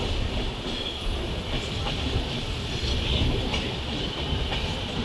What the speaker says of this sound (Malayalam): ട്രെയിൻ ഇപ്പോൾ എത്തിക്കൊണ്ടിരിക്കുന്നത് കരുനാഗപ്പള്ളി റെയിൽവേ സ്റ്റേഷനിലോട്ടാണ്